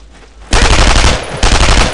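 Sustained machine-gun covering fire in a World War 2 squad shooter game, erupting loud after a quiet half-second, with dense rapid bursts, a brief dip, then another burst.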